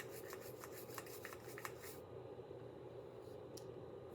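Scrubbing a rusty Christmas animatronic clean, a steady raspy rubbing with quick brush strokes that stop halfway through, leaving quieter handling noise.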